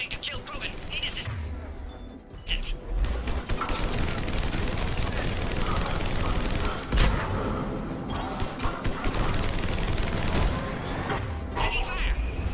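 A checkpoint firefight with Cerberus troops on the Citadel in Mass Effect 3 Legendary Edition brings dense, continuous bursts of rapid gunfire and thudding impacts, while voices shout over the shooting.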